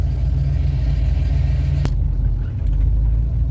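A 1971 Ford Torino's engine rumbles steadily up close as the car pulls out for a test drive, a deep continuous drone with a brief dip near the end.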